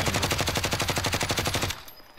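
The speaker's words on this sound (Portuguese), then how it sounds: "Tem cara no estádio atirando, hein?" Rapid automatic gunfire rattles in a fast, even burst of about a dozen shots in a Call of Duty: Modern Warfare stadium fight, loud and close, then stops abruptly, leaving a faint tail of quieter ambience.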